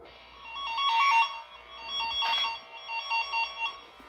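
Steady warbling electronic tone from a cable toner clipped onto speaker wire during a ceiling speaker install, pulsing between two pitches, fairly close and clear, rising and falling in loudness over several seconds.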